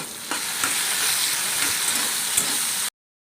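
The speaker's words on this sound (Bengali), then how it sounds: "এদিকে হচ্ছে ভেন্ডি ভাজা হচ্ছে" Okra (bhindi) fries in a pan with a dense, continuous sizzle and a few faint stirring taps, then cuts off abruptly.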